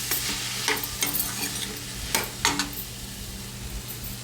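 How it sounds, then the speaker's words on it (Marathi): A cauliflower, potato and pea vegetable mix being stirred in a hot pan, steady sizzling broken by a few sharp spoon scrapes and clacks against the metal. "आता हे सगळं एकजीव करून घेऊया, व्यवस्थित सगळं मिक्स करून घ्यायचं।"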